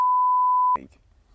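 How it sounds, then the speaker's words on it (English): A single steady electronic beep from the warning buzzer of a rotary-engined Miata holds for about three-quarters of a second, then cuts off into a clunk and low background rumble. "That's the buzzer, don't worry, that connects to the buzzer"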